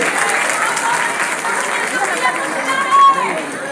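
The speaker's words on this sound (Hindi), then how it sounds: "अगर बदल रहा है तो जोरदार तालियां भी होना चाहिए।" Audience applause at a fashion show staged by a beauty association in Jabalpur, heard as a dense, steady wash of clapping from a large crowd. Loud voices mix in with the clapping throughout.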